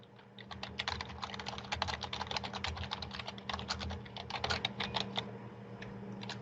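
Typing on a computer keyboard, a rapid and steady run of close key clicks that continues for the whole span, with nothing else heard.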